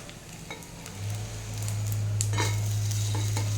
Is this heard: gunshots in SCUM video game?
no